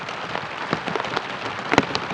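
Heavy rain pours steadily, a dense hiss broken by sharper drops and splashes close to the microphone.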